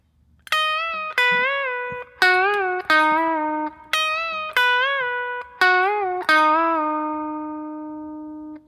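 Clean electric guitar plays a short harmony phrase of sustained double-stop notes, several bent up and released, ending on a long ringing note.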